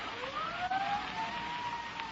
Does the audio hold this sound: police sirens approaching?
yes